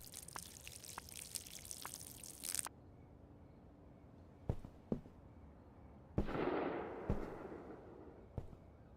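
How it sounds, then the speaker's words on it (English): Sharp, isolated bangs ring out in a farming and harvesting video game at night, a few brief cracks spaced apart over a quiet background, one followed by a broader burst of noise. "Did I just hear a gunshot?"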